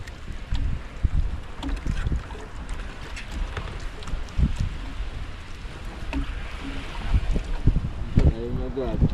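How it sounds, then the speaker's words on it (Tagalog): Strong wind buffets the microphone in heavy gusts, with rain and water splashing around a boat, and people talking now and then underneath. "Yung lakas ng hangin sa ulan."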